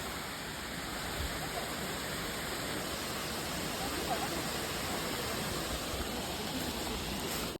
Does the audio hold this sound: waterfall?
yes